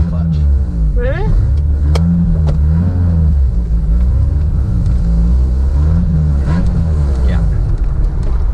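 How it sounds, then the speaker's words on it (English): An engine on a 1981 right-hand-drive Honda SJ Accord with a lost clutch, which is reluctant to rev. It roars close and loud, rising in pitch and dropping back in a couple of surges, while people talk over it throughout. "Lost clutch, and it doesn't like to rev."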